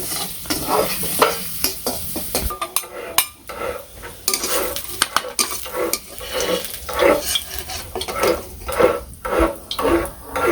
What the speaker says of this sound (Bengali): পেঁয়াজগুলো একটু লাল লাল করে ভেজে উঠিয়ে রাখবো।